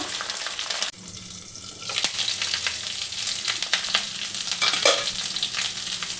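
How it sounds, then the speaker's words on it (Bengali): Cauliflower and potato fry in a wok with a steady, dense sizzle, broken by scraping stirs and a few clinks close by, and the crackle continues throughout. "প্রথমে কপি আলুটা ভালো করে ভেজে নিই বন্ধুরা"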